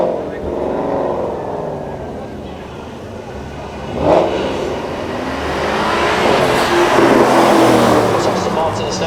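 An Aston Martin supercar with an AMG engine drives past at a supercar weekend event, its engine note swelling and fading over crowd noise, with a sharper burst midway and a rising roar toward the end.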